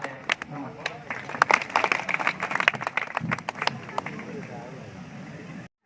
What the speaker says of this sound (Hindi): क्या शानदार तालियां थी आप